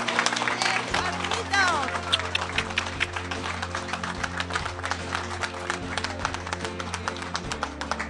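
A gathering of retired trade-union members applauds: steady, dense clapping runs throughout, with crowd murmur and voices mixed in and a low background hum underneath.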